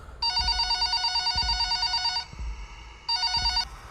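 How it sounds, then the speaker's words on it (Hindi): A mobile phone rings in repeated bursts, a bright electronic trill that stops briefly and starts again, with soft thumps underneath. "तभी प्रियंका के फोन की घंटी बजती है।"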